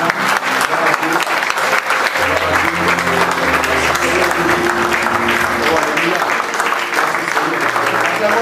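A church congregation in Bordeaux applauds during a worship service, a loud, sustained wash of clapping from many hands that continues throughout, with voices mixed in.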